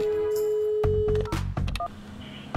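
Telephone dialing tones before a call to a company: a steady line tone gives way to a quick series of touch-tone beeps and clicks, close and distinct, with no talk.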